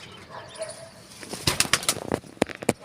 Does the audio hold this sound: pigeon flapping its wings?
yes